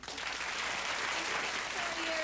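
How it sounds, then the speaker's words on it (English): A studio audience applauding at a talk show, dense steady clapping at moderate loudness throughout, with a voice briefly audible over the applause near the end. "who else applauded that?"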